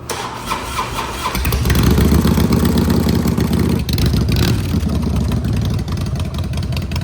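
A 2004 Harley-Davidson FXDX motorcycle engine cranks, catches and settles into a loud, steady rumbling idle close by, with a slight pulsing throb.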